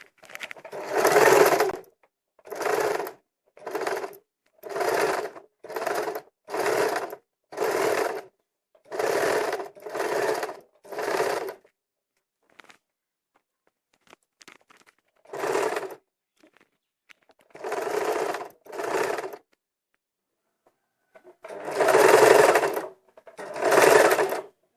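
A sewing machine stitches a readymade neck onto a blouse in repeated short bursts of loud, close whirring, a long pause in the middle, then a few more runs.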